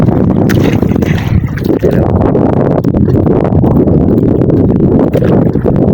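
Fishing boat motor running at sea, a loud steady low engine rumble mixed with wind buffeting the microphone and splashing water throughout.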